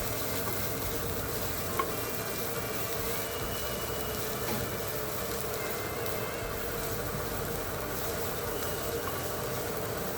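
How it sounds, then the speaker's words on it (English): Onions sautéing in a pan over a gas flame, giving a steady, dense sizzle that holds evenly throughout, close and continuous with no break and no talk. "Now my onions are half done. So now I am going to remove from the flame."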